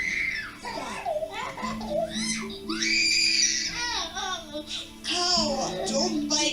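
A toddler screams and squeals loudly in a family home at nap time, high shrill bursts with babbling and laugh-like cries, close and continuous, with other children's voices in the background.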